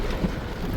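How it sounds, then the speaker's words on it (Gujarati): Heavy rain pours onto a car near Kakolem Beach in South Goa, making a brief, dense, continuous rumbling wash with no voices. "ફૂલ વરસાદ આવી ગયો"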